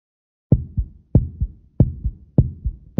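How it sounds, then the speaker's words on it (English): Heartbeat heard through a stethoscope in a Blue's Clues checkup video game, a clean regular lub-dub repeating four times at a steady pace, loud and close with nothing else around it. "Your heartbeat is regular."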